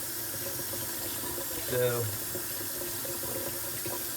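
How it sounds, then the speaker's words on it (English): A kitchen tap runs hot water into a sink in a steady, fairly quiet stream, with someone speaking a word briefly over it. "This is hot water right here"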